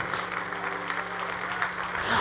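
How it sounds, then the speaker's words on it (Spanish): Applause from a church congregation during a Friday evening service, a steady dense patter of clapping that holds throughout without pause. "Oigo que aplauden."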